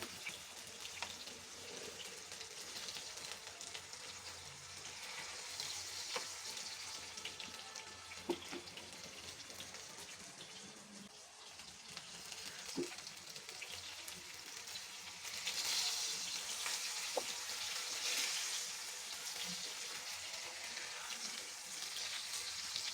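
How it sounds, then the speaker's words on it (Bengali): Chicken chap pieces frying in oil over high heat, a quiet steady sizzle and hiss with a few small pops and clinks spread throughout. "একটা একটা করে ভেজে নেব। চুলা আঁচ হাই হিটে আছে।"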